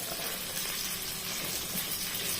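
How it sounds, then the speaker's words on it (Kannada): Cut green chillies sizzle in hot oil in a pan while biryani is being cooked, a steady, close, dense hiss that runs unbroken throughout with no voices. "ಇಲ್ಲಿ ಎಣ್ಣೆ ಕಾಯಿಲಿಕ್ಕೆ ಇಟ್ಟಿದ್ದೇನೆ ಫಸ್ಟಿಗೆ ನಾವು ಇಲ್ಲಿ ಕಾಯಿ ಮೆಣಸನ್ನು ಹಾಕಿಕೊಳ್ಳು"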